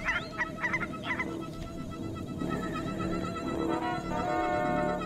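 Geese in the video game Knights & Bikes give a few quick nasal honks at the start, then a low droning, wavering game soundscape carries on beneath.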